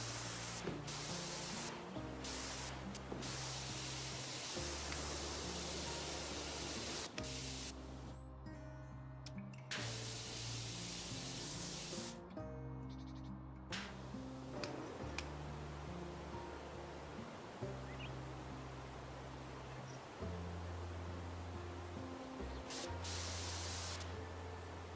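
A pressure washer jet blasts a helicopter rotor blade in Powerwash Simulator, a steady close hissing spray that cuts out briefly twice and then resumes.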